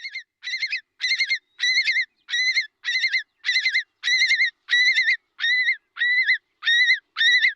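A single long-billed curlew's loud, repeated alarm calls, about a dozen harsh notes in a steady, insistent rhythm, close by and alone against silence.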